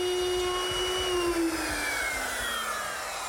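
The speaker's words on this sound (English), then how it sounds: "I use my router, which is equipped with a V-grooving bit, and this fence to guide it along the side of the cabinet" A wood router fitted with a V-grooving bit and guided by a fence cuts a groove along the front stile of a cabinet, a loud continuous whine whose pitch slowly falls over a few seconds.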